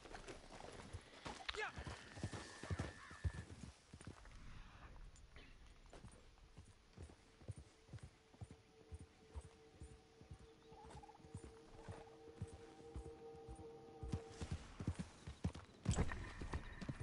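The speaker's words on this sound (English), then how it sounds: "Sounds like a horse." Horse hooves clip-clop in a steady walking rhythm in Red Dead Redemption 2, quiet and continuous under faint ambient tones and other game sounds.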